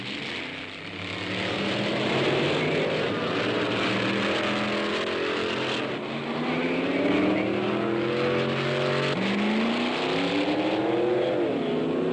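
A 1960s drag racing car engine makes practice runs, loud and close, its revving pitch climbing in repeated surges, briefly dipping between pulls before winding up hard again.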